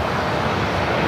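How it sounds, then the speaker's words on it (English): An Alaska Airlines Boeing 737-800 at LAX gives off a steady, loud broadband jet engine roar for a brief moment, with no voices. "At Alaska flight heading to Seattle, flight 1083 on the 737-800."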